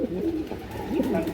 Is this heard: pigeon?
yes